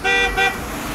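Truck horns blare on a busy city street in Edinburgh, two loud sustained honks in quick succession over steady traffic rumble.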